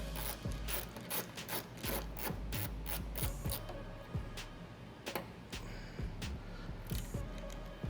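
Phillips head screws being worked out of the license plate light housing on a 1994-2004 Ford Mustang, a steady run of close, dry ratcheting clicks and small metallic scrapes with no talk.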